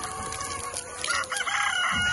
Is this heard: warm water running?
no